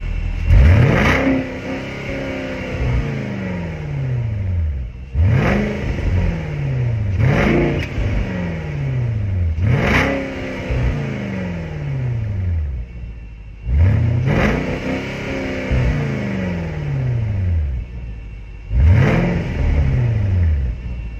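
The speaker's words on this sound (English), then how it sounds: "I'll give you a few revs right now." A 2013 Porsche Cayenne GTS V8 engine revs hard in repeated bursts, each one climbing then falling back, about six blips spread over twenty seconds, loud and close.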